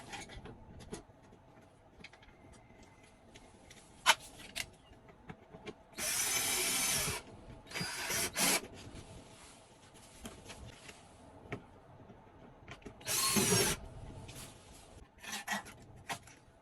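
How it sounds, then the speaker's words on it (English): A mounting bolt is driven in to hang a Fogatti air conditioner, with close rasping and whirring bursts of a powered driver, two long runs and a few shorter grinding spurts between quiet handling noises. "I'm going to install 1 bolt into place so that it hangs there"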